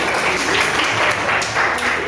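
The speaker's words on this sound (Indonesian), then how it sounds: "Tepuk tangan untuk kelompok pertama ya." A classroom of students applauds the first group after a class presentation, with dense, continuous clapping that holds steady for about two seconds.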